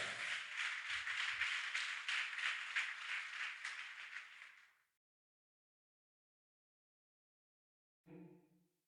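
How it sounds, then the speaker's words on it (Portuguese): Church congregation clapping during a morning worship service, a fairly quiet, steady patter of many hands that fades out after about five seconds, followed by silence and a brief tonal sound near the end. "Pode aplaudir com força."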